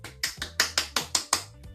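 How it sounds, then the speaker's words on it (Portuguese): An audience claps after a story: seven sharp, evenly spaced claps in a quick steady beat, close and distinct, with no voices. "E quem gostou da história, pode bater palmas."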